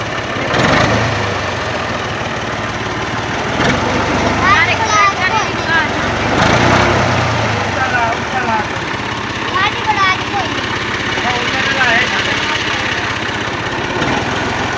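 Tractor engine running steadily at mid pitch, close and fairly loud, with a rough knocking idle that continues throughout, while people talk over it now and then.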